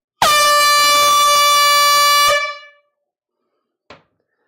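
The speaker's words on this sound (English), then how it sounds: "If you're new, we have an air horn for 2 reasons." A loud, sustained air horn blast lasting about two seconds, rich and brassy, cutting off with a brief ringing tail, then a short faint click.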